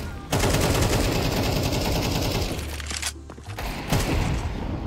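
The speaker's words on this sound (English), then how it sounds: "Oh, that was with an AK, not with a nade." Rapid AK rifle fire in a first-person shooter, loud close bursts of rattling shots that continue for several seconds, break off briefly near the end, then start again.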